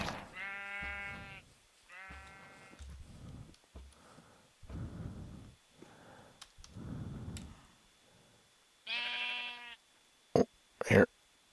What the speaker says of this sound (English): Dumb sheep.